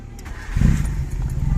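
A carbureted Nissan car engine, converted from ECCS EFI, cranks briefly and catches on the first try, settling into a close, steady idle rumble.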